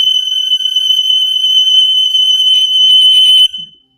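A loud, high-pitched ADT Impassa home security alarm tone blares steadily, breaking into rapid pulsing beeps near the end before cutting off abruptly.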